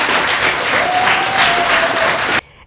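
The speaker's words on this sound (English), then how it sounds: "So we really have to give our parents a round of applause for volunteering this afternoon" Steady applause from parents and others at a Dominica community event, a dense wash of clapping holding at full strength for over two seconds before cutting off abruptly, with a faint whistle-like tone running through the middle.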